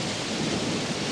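Thunderstorm sound effect opening a metal song: a steady, dense roar of rumbling thunder and heavy rain, loud and unbroken throughout, with no voices.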